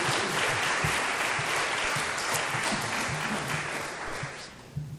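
A church congregation applauds a cello and piano duo after their morning performance, steady dense clapping from many hands that holds for several seconds before thinning out near the end.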